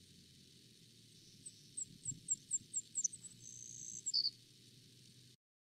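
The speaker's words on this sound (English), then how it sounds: "now we'll listen to the savannah sparrow on the bottom, see if you can pick out what part it's singing" A savannah sparrow sings alone: a series of about eight thin, high chips at a steady pace, then a brief buzzy trill and a final sharp note, fairly faint over a steady low background hum.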